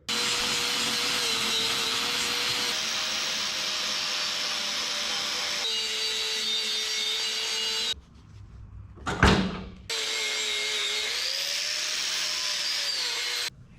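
Steel pipe ends being cleaned up with a power tool before welding, a loud continuous whine broken by a short pause and a brief scraping burst before the grinding resumes.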